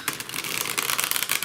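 A deck of tarot cards is shuffled up close, a quick run of crisp riffling flutters repeating in rapid bursts.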